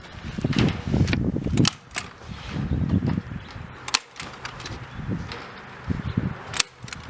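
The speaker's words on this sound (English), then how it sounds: "you can start stapling it down with your staple gun" A staple gun fastens hardware cloth mesh to a wooden garden box bench, firing several sharp snapping shots at uneven intervals, with rustling handling noise between them.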